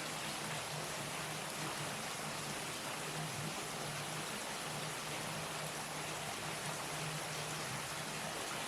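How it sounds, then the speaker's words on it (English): Dense, even rainfall hisses steadily throughout, a constant wash of drops with no talking and no pauses. "Oh shoot, it's raining."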